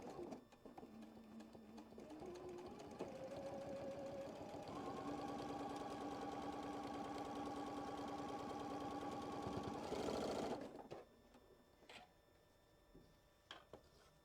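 A sewing machine runs continuously for about ten seconds, stitching a quilt block along a marked line, its whirring hum climbing in speed and pitch before stopping, followed by faint handling clicks; close and fairly loud, with no talk.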